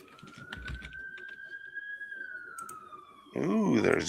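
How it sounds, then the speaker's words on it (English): A fire engine siren wails steadily outside, a long rising then slowly falling tone heard from a distance, with a louder burst of warbling siren at the end over faint keyboard clicking indoors. "Yeah, that's a fire engine."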